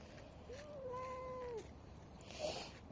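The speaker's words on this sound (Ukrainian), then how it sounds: "Цей котик завжди кричить і просить" A hungry cat begging for food gives one drawn-out, rising-then-falling meow, fairly clear against quiet room noise, followed by a fainter second short cry.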